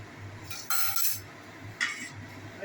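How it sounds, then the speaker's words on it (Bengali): A metal lid is set onto a cooking pot of fish curry with a couple of close metallic clinks and scrapes, heard alone. "ঢাকা দিয়ে দিচ্ছি, একটু ফুটে উঠুক"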